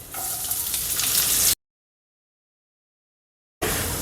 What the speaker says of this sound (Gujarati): કડાઈની અંદર લાંબી સાઈઝની અંદર કટ કરેલી ડુંગળી લઈ અને ફ્રાય કરી લઈશું।